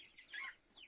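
A single faint, high cluck from a small chick, brief and distant-sounding.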